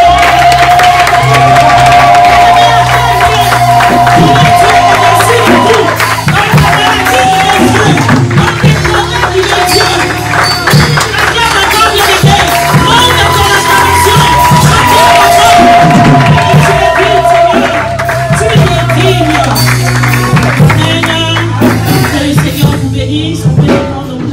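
A church congregation in Ottawa cheers and shouts acclaim loudly and continuously over music, a dense crowd roar with voices rising and falling throughout.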